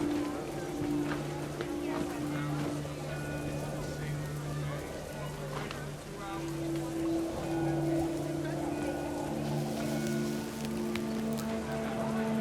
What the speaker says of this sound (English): Rain came down in buckets then